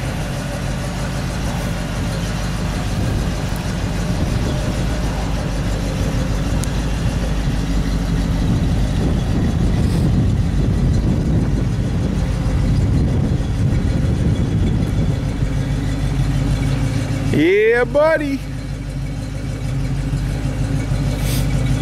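A 1970 Ford Mustang Mach 1 with a stock cam idles outside a garage, a steady low rumble running close and even the whole time, with a short spoken exclamation near the end.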